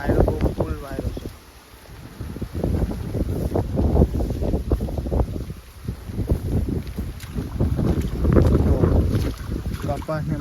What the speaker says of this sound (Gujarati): વાયરો બહુ ફૂલ વાયરો છે।